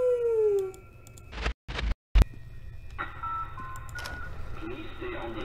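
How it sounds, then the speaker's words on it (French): Wolves howling in the video game SCP: Unity, a faint rising and falling tonal wail at the start, followed by abrupt bursts and cutouts and then a low ambient bed with scattered tones. "loups."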